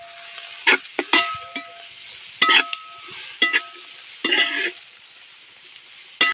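Onions sauté in a pan for Ooty biryani, a soft steady sizzle under a string of sharp metallic spoon scrapes and clanks against the pan, close up.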